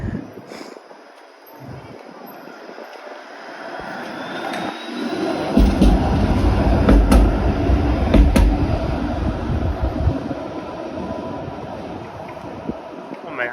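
A Toronto 504 King streetcar rumbles nearby in a downtown street, a low rolling rail roar that swells in the middle and fades, with sharp clanks and a faint screech over steady outdoor wind.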